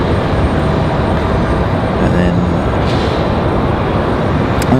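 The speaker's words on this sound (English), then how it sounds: "So the American 777 is headed off to London." An American Boeing 777 airliner departs at night from Raleigh-Durham airport for London. A loud, continuous broadband jet engine roar fills the clip at a constant level throughout.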